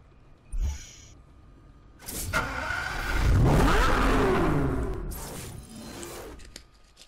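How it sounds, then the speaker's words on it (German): A car engine revs hard in a Need for Speed Hot Pursuit Remastered race, rising to a loud sustained roar in the middle and easing off toward the end, with no talk. "Hör mal das Auto"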